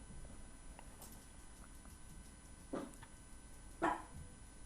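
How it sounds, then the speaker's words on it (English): A dog barks twice in the distance, faint sharp yaps a second apart over a quiet background hum. "My dog's barking."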